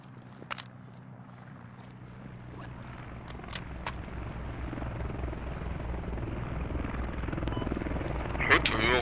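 An enemy helicopter in the Squad video game sounds as a steady rotor drone that slowly grows louder over several seconds. It has a few sharp clicks near the start and a burst of noise at the end.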